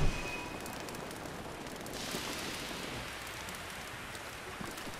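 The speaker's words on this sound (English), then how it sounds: "It's raining!" Rain falls in the Zelda: Breath of the Wild video game as a steady, even hiss of downpour that stays fairly constant from start to finish.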